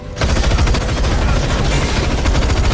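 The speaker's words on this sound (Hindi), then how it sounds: "तभी पैट्रिक ने सीधे एक भारी बंदूक उठाई और उन लोगों पर अंधाधुंध फायरिंग शुरू कर दी" Rapid, sustained heavy gunfire from a heavy gun in a film bursts out loudly and continuously, a dense automatic barrage with no pauses.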